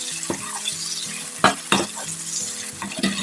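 Tomatoes for chicken biryani fry in a pan with a steady sizzle, while a spoon stirs and knocks against the metal in several sharp, close scrapes.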